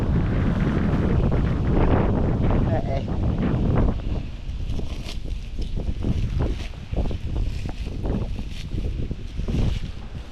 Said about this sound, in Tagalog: Gusto ko pagkalakas ang hangin.